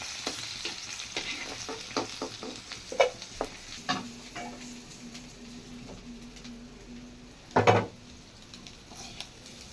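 Taro root (colocasia) frying in a pan, with a faint steady sizzle under scattered stirring scrapes and a few sharper clinks of a utensil against the pan, fairly quiet and close.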